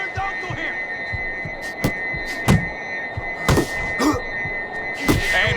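Punches land in the boxing video game Fight Night Champion: a run of dull, thudding impacts strikes in quick irregular bursts over a steady arena hum.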